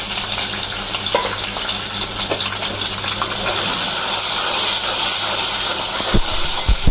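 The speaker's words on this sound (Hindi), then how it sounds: "ये हमारा लहसुन भून रहा है" Garlic sizzling and frying in a pan in a home kitchen while cooking a mash dal gravy, a steady hiss and crackle that holds throughout, with a few small clinks near the end.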